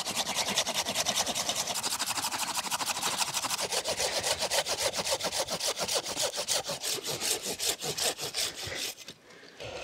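A hand saw cuts through an apple tree branch during spring pruning in an orchard, with steady, fast back-and-forth strokes close up that slow and stop near the end.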